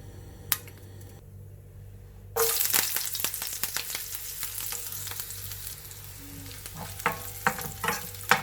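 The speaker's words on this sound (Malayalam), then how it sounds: "ചൂടായ എണ്ണയിൽ നമ്മൾ കടുക് ഇട്ട് കൊടുത്തു." Mustard seeds, shallots and curry leaves sizzle loudly as they hit hot oil in the pan, with crackling pops and spits scattered throughout and a few stirring scrapes, no voices.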